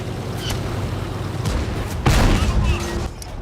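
A tank cannon fires in a tank video game, one heavy, sharp boom cutting through the steady engine rumble, with fainter clanks before it and a lingering roar after.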